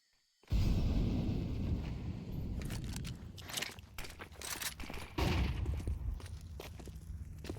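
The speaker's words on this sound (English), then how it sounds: "They don't do it, but shots go off from Andrew." Gunfire rattles in a Counter-Strike match, a burst of close, loud shots followed by more volleys and footsteps in the game's soundscape.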